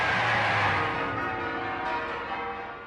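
Church bells ringing out across the nation in celebration during the Second World War, a dense, resonant wash of bell tones that slowly fades, heard alone without talk.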